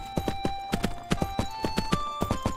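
Horse hooves clip-clop in a steady, brisk rhythm from a level 55 horse in the Three Kingdoms Zhao Yun video game, the repeated close, crisp footfalls heard alone over a faint background tone.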